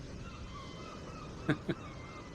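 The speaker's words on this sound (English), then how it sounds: "Despite that very persistent bird in the background." Two short honking bird calls ring out close together over a faint steady ambient hiss of an outdoor beach scene, with no talk.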